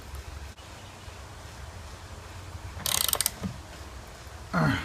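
A ratchet wrench tightening an eye bolt into a wall for paddleboard storage, giving one quick run of close, loud clicks midway and a short scrape near the end, with quiet between them.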